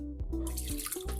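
Liquid pours steadily into a bowl while a fruit cocktail with nata de coco is assembled, a close, continuous watery splash lasting about a second with no talking.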